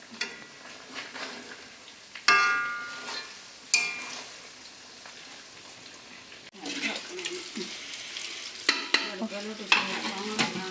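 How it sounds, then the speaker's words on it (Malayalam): Pullan fish frying in a pan hisses and crackles continuously at close range, broken by loud scraping bursts as it is stirred now and then, with a voice talking over it. "നമുക്ക് ഇടയ്ക്ക് ഒന്ന് ഏളാക്കി കൊടുക്കാം"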